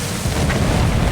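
A torpedo striking a ship in the Silent Hunter 4 submarine game detonates in a single dense, rumbling boom that swells after a brief moment and holds loud to the end.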